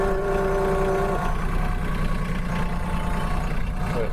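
Tractor engine running steadily at a low idle rumble while feed is moved around, a constant close drone with a brief tonal whine early on and no speech over it.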